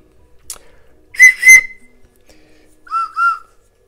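A Khludnevo clay whistle, a kurzhupka, gives two short pairs of clear, loud toots separated by a pause, the second pair lower in pitch, with a faint click before.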